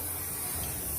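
A short, quiet hissing spray of olive oil from a spray bottle onto chicken, heard as a brief, steady close-up hiss.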